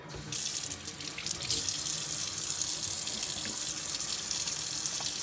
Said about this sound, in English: What you need to do first before handling any food is wash your hands.